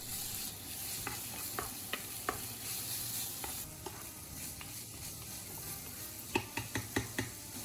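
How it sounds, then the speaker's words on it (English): Ground meat cooking in a pan after sautéed onion, a faint steady sizzle with scattered scrapes of a utensil that cluster into a quick run of clicks near the end, no voices. "add the ground meat and cook until it firms up"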